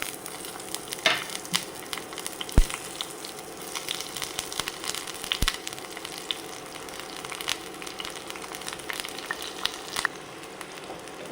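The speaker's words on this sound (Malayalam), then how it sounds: "പിന്നെ അതിലേക്ക് അരിഞ്ഞ് വെച്ചിരിക്കുന്ന വെളുത്തുള്ളി, ചുവന്നുള്ളി, കറിവേപ്പില ഇട്ട് കൊടുക്കുക." Garlic, shallots and curry leaves fry in coconut oil, giving a steady crackling sizzle across the whole stretch, with sharper pops and a couple of loud clatters from the pan, and no talking.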